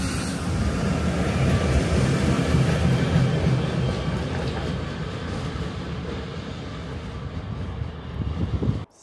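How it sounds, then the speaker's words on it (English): A DRS Class 66 diesel locomotive passes the former Strathbungo station on the Cathcart Circle with a loud, sustained rumble and rolling clatter that fades slightly near the end. "Seeing that DRS Class 66 diesel locomotive at the former Strathbungo station was brilliant to see."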